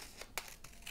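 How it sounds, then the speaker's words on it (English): Scissors snip through paper for a bookmark craft, two or three short crisp cuts with faint crinkling between them, close and quiet with no talk. "I'm going to cut a couple of smaller ones like this and then a couple of longer ones."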